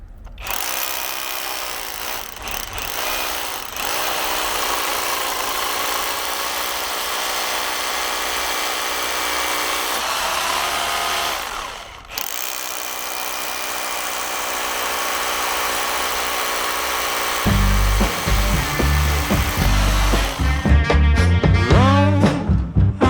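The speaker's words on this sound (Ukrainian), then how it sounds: "знайшов бетонний армований стовп і давайте перевіримо, як тут буде перфоратор працювати" Loud, continuous cordless Revolt rotary hammer drilling into a reinforced concrete post, broken by a brief pause, then resuming with heavier pounding and rattling toward the end.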